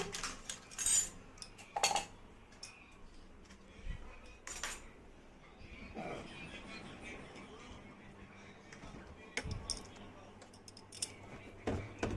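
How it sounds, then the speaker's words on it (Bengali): Almonds and raisins chopped with a knife on a board at home while making lassi, giving scattered, irregular clicks and taps, fairly close, over faint background noise with short louder knocks. "এই যে আমন্ড বাদামগুলো আর কিশমিশগুলো কেটে নিলাম।"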